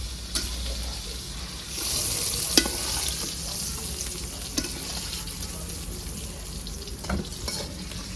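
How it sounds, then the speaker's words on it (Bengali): Onion fries in a pan with a steady, moderate sizzle, broken by a few scraping stirs and light clinks. "পেঁয়াজটা আমার হালকা ভাজা হয়ে গেছে, পুরোটা ভাজবো না।"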